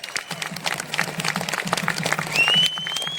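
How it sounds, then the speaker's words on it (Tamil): An audience applauds child Bharatanatyam dancers at a Maha Shivaratri program, a dense continuous patter of many hands clapping at moderate volume with a brief whistle near the end. "அந்த குழந்தைகளுக்கு ஒரு பெரிய கைத்தட்டு கொடுக்கலாம்"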